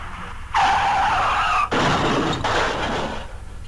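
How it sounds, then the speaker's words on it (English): A car skids with a long tire squeal and then crashes into a tree, a loud, sustained screech followed by a rough impact and grinding noise that fades out. "a car crashed into a tree"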